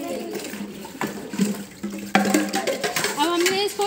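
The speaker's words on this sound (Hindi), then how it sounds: "इस बाल्टी के पानी को इस बाल्टी में भर दिया है ना" Water pouring from one bucket into another, a splashing, gurgling stream with pitch rising as it fills, heard nearby with a voice and other talk in the background.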